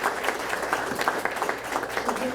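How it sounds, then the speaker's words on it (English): A crowd applauds steadily at a ribbon cutting for a cold storage expansion, a dense patter of many hands clapping at an even level throughout. "Could we give them a round of applause?"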